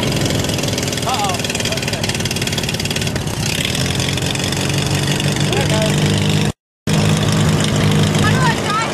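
An old Jeep CJ5 or Farmall H tractor engine runs rough and steady just after a cold start, a loud close idle rumble continuing throughout with a brief dropout, while people talk over it.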